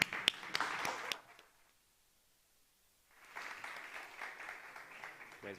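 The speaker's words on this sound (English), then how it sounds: "Welcome to the stage, everyone, and a big round of applause." Scattered applause from an audience fades to near silence, then a second round of clapping builds and continues steadily.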